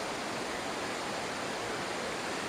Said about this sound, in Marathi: इथं सतत पाणी वाहत असल्यामुळे या दगडाला सेवा आहे